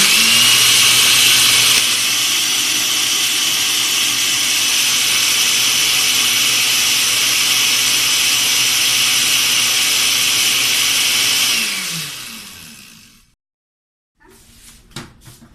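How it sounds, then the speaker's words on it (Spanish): A kitchen blender whirs steadily while liquefying Nancy soup ingredients with water, a loud continuous motor drone that winds down near the end before a few faint clicks and handling sounds. "se procede a licuar"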